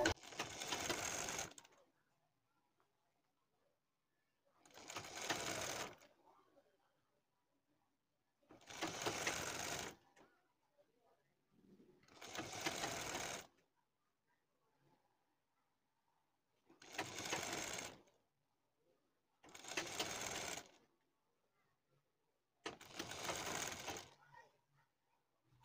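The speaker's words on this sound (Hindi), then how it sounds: "हमें अपनी पाइपिंग की जड़ में लगाना है सिलाई इस तरीके से" A sewing machine stitches piping onto the sleeve of a garment in seven separate bursts of rapid mechanical whirring, each about a second long with short quiet pauses between them. No voices are heard.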